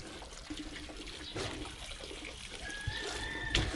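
Water runs steadily from a tap in a soft, continuous splashing stream while white corn kernels are rinsed of slaked lime, with a faint whistle of pipes near the end.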